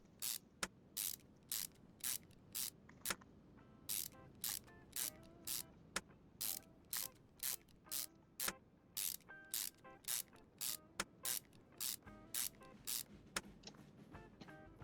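Steady rhythmic ratcheting of bolts being tightened on a car engine's valve cover in Car Mechanic Simulator 2021, about thirty evenly spaced crisp mechanical clicks, quiet and alone.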